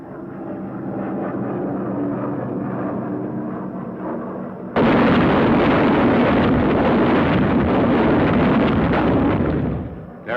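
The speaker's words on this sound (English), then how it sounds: "Another drop of the jellied gasoline bombs." M69 jellied gasoline incendiary bombs dropping and exploding, a low droning rumble that abruptly jumps to a loud, dense, sustained roar of blasts and burning, then tapers at the end.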